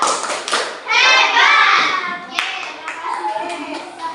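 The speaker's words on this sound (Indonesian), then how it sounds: "Oke, tepuk hebat dulu untuk kelompok 3" A group claps a short cheer rhythm for a classroom team, hands striking together in a quick patterned burst, with children's voices chanting along nearby.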